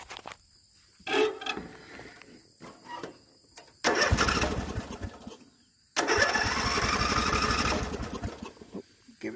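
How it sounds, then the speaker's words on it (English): Craftsman riding lawn mower starter cranking in short bursts, followed by two loud attempts where the engine turns over and runs briefly, close and rough, separated by quiet gaps. "Let's go ahead and start it up just for a second."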